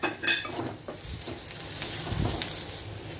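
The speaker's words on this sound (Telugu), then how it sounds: "ఇప్పుడు ఈ ఉల్లిపాయలతో పాటు ఈ కాకరకాయ ముక్కలను కూడా ఫ్రై చేసేసుకోవాలి." Sliced onions and bitter gourd pieces sizzle in a pan while a spoon stirs and scrapes, giving scattered close clinks over a steady frying hiss.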